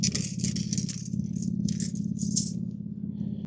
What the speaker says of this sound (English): So when you plug those in, you should be able to hear those snap.